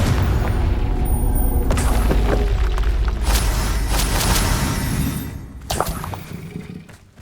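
A Confringo blasting spell explodes in the video game Hogwarts Legacy: a loud, sustained rumbling boom with crackling bursts that rolls on for several seconds before fading and flaring again briefly.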